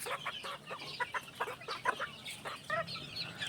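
Chickens at a gamefowl breeding farm clucking in quick, repeated bursts, several birds close by, with soft background farmyard ambience and no talking.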